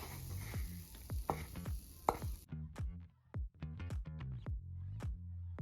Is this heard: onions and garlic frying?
yes